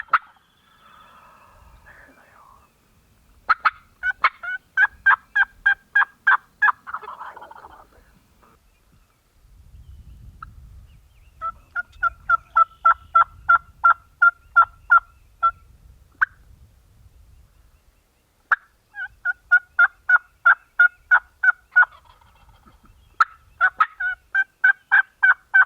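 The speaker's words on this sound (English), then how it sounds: "he's just out there strutting and gobbling" Wild turkeys gobble repeatedly during a Kentucky spring turkey hunt, the rapid rattling calls coming in three separate bursts, fairly close and loud, with quiet rustling and low murmured whispering between them.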